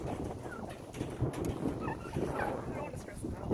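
Wild turkeys gobble during an aggression display, rapid rattling calls rising over steady wind noise at a moderate distance at an outdoor site.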